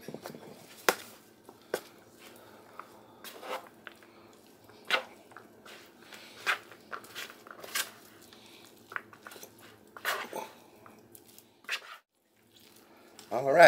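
A big spoon works through stiff fruitcake batter in a bowl, making a series of wet squelching slaps and thick squishes at an irregular pace, close and fairly quiet, with pauses between strokes.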